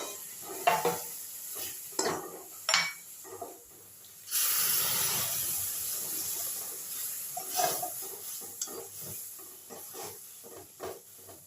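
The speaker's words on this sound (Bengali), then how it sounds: "এবার আমি এর মধ্যে অল্প করে দুধ দেবো আর এটা নাড়া দেবো।" Rice and milk mixture for a sweet is stirred in a hot pan, with scraping strokes of a spoon against the metal at irregular intervals and a burst of steamy hiss midway; no voices.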